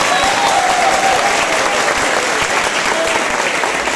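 A church congregation at a Baptist service claps together in sustained, dense applause, loud and even throughout with a faint voice underneath.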